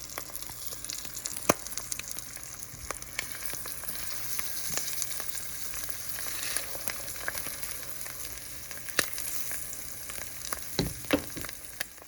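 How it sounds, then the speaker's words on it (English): An egg frying in a pan on a budget meal, a steady close sizzle and crackle with occasional sharp pops, heard alone without talking. "And let's do a fried egg."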